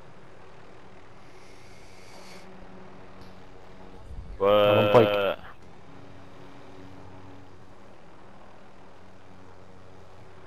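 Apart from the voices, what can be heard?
airplane engine in video game Call of Duty Modern Warfare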